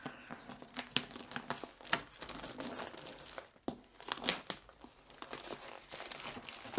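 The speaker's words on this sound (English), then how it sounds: "so cut the plastic off" Plastic wrap being cut and pulled off the box of a white NZXT Kraken Z63 RGB AIO cooler, heard as close, irregular crinkling and tearing crackles with a few sharper snaps, and no talking.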